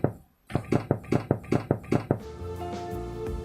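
Eight knuckle knocks sound in a steady row on a used car's body panel that was repaired with body filler, each a dull close thunk, followed by a low steady hum.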